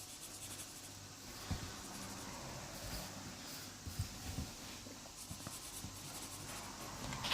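Markers scratch and rub across paper while brown shadows are shaded into a drawing, a faint, continuous close-up scribbling with small strokes and no talking.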